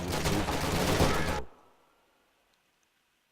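Dense rapid machine gun fire in the Company of Heroes 2 video game, loud and continuous for over a second before cutting off abruptly into near silence.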